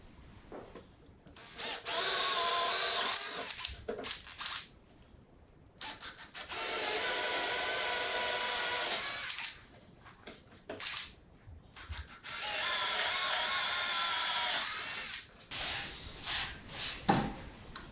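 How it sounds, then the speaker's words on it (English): A power drill bores holes through an oak board for LED lights, three long loud whirring bursts of steady drilling separated by short pauses with small clatters and handling noises. "we're finished with drilling the holes for the LED"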